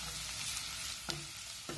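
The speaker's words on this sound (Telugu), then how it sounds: "ఒక చెంచా అల్లం వెల్లుల్లి పేస్ట్ వేసుకుందాం." Ginger garlic paste and curry leaves sizzling in hot oil with green chillies, a quiet steady crackle broken by a couple of sharp clinks of a spoon stirring.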